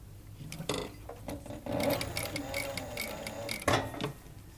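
A sewing machine stitches around the edge of a leather flower inlay in short bursts, with clicking, ticking needle strokes separated by pauses, close and moderately loud, no speech.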